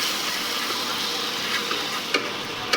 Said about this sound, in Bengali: মশলাটাকে আমি ভালো করে কষে নিয়েছি